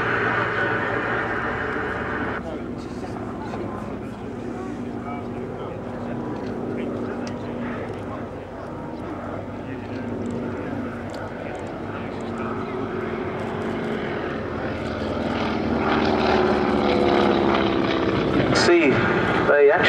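A Boeing P-26A Peashooter propeller fighter with fixed undercarriage and wire bracing drones past at the Flying Legends airshow at Duxford, its engine a steady distant hum that swells louder toward the end, with a commentator talking over it.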